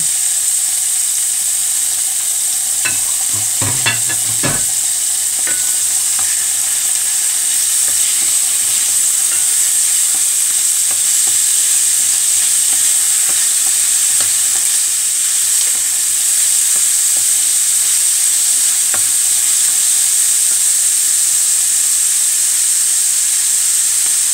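Chicken and chorizo de Bilbao frying in a pan, giving a loud, constant hissing sizzle with a brief burst of utensil clatter near the start.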